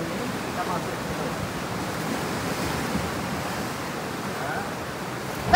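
Big waves of the southern Java sea roar and break steadily on the beach, a continuous rushing surf with no voices.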